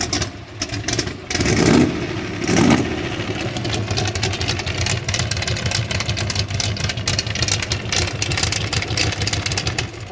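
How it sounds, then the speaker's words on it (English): A Jeep engine is blipped a few times, giving loud throaty revs that rise and fall over a rough, steady idle rumble heard up close. "Yeah, we'll give it a little rev."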